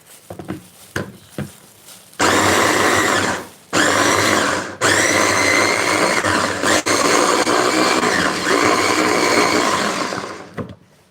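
A food processor finely chops garlic with a loud, close, high-pitched whirring motor. It runs in a short burst, pauses briefly, then runs again for a long stretch before stopping, preceded by a few faint clicks.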